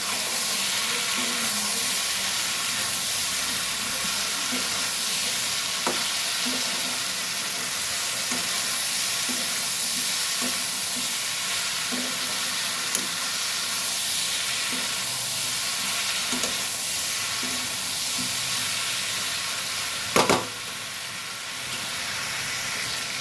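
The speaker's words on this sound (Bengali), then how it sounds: "প্রয়োজন মতো হলুদ, লাল লঙ্কার গুঁড়ো। এবার ভালো করে এগুলোকে ভেজে নেব।" Turmeric and red chilli powder fry in a pan with a steady, even sizzle and hiss that holds throughout, broken by faint stirring scrapes and one sharper clink near the end.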